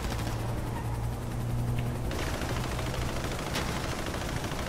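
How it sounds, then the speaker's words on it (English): In the game GTA 5, a helicopter drones overhead while bursts of automatic gunfire rattle in dense, continuous volleys, loud and close throughout. "Got a chopper on us."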